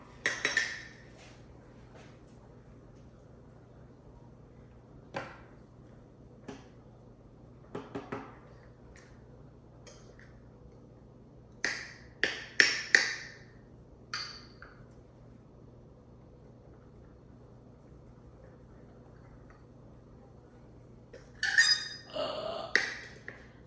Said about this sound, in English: It gets stuck. And you gotta loosen it with your knife.